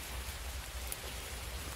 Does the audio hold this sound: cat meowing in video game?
no